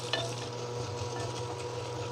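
Garlic and chickpeas frying in oil in a pan while cooking South Indian puli satham, a soft continuous sizzle with a faint stir or scrape near the start, low and close, no voices.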